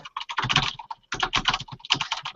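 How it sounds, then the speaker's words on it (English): Rapid, loud clatter of typing on a mechanical keyboard with Cherry MX Brown switches, close up, in dense bursts with a brief pause near the middle. "You're typing really loud."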